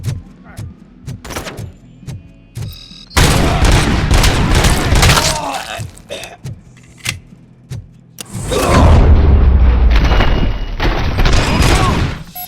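Gunfire in the RoboCop: Rogue City video game, loud sustained bursts of shots and booms in two long stretches, with short shouts between them.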